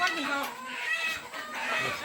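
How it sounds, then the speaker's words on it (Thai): Chickens cluck in short, repeated calls mixed in with people talking close by. "เราไปจับไก่ว่ะ จับไก่ขาไก่"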